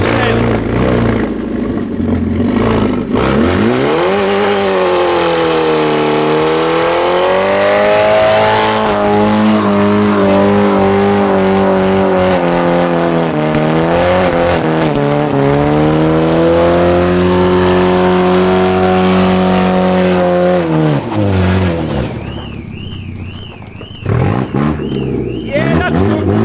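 A BMW E46 engine revs hard and loud, pitch sweeping up and down through several sustained pulls, then drops away near the end with a brief higher whine; people talk around it.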